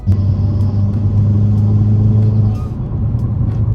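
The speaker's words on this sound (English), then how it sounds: "Even in eco mode, you can still hear the engine and intake noise much louder than the stock one" Steady, loud engine drone and intake rumble from a 2022 Hyundai Kona N fitted with a K&N intake, droning evenly in eco mode with faint clicks and a slight drop near the end.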